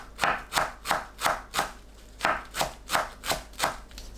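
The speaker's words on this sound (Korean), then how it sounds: "깻잎을 곱게 채 썰어줍니다." A knife finely slicing perilla leaves for a soybean sprout and green onion salad, about ten crisp, evenly paced chops on a cutting board, close and moderately loud with no talking.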